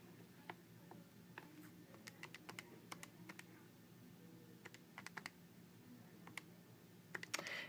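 Keys pressed on a graphing calculator keypad while entering an equation, a scattered series of faint, sharp plastic clicks in irregular bursts, close and quiet against low background noise, with no talking.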